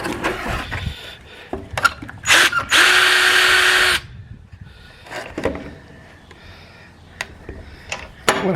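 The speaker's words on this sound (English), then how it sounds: "Got the 1/4 inch hole, so I just drilled put a 1/4 bolt all the way through." A power drill bores a 1/4 inch hole in a metal bracket for an RV awning fix, with one sustained high whirring burst of about a second alongside short clicks and handling knocks close by.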